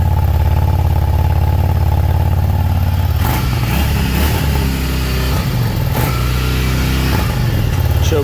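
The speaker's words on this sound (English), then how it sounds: "once the bike warms up, there's not a lot that you got to worry about. snappy motor, pretty quiet." A 2009 Yamaha V Star 650 Classic cruiser motorcycle, choke on, runs loud and close, first in a steady idle, then in rougher, uneven revving with throttle changes.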